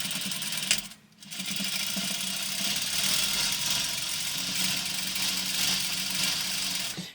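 Domestic sewing machine running a continuous straight stitch through fabric for a Halloween costume, a steady close mechanical whir with one brief pause near the start, no talking.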